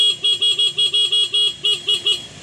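A Honda CBR motorcycle's stock horn beeps in a quick, even series of about a dozen short, loud toots, close and clear.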